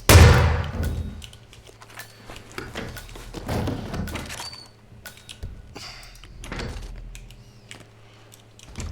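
Shotgun blast in the video game Hitman 2 on the Miami level: one loud, booming shot at the start, then dull thuds, clatter and game ambience over the following seconds.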